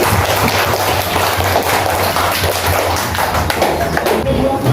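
Children in a first-grade classroom clap for a classmate, a steady, fairly loud patter of overlapping hand claps and thumps carrying on evenly throughout with little voice.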